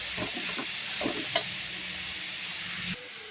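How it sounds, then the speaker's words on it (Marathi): Veg hakka noodles stir-fried with masala in a hot pan: a steady hiss of sizzling with a few scraping tosses and a single sharp clink, close up, cutting off near the end. "आपला व्हेज हक्का नूडल्स मसाला घालून घेऊ आणि व्यवस्थित परतवून घेऊ"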